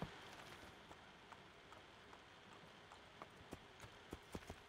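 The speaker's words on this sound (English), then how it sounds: "Can I grab my horse? Let's grab a horse." Horse hooves clip-clopping on a road in Assassin's Creed II, a faint, irregular run of hoof strikes that grows more frequent toward the end, over a soft hissing ambience that resembles light rain.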